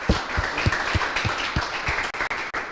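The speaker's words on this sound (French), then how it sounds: "Je pense qu'on peut applaudir Gaëtan" Audience applause after a tech talk, a light scattering of claps with rhythmic thumps at a steady pace, moderately close and fairly sparse.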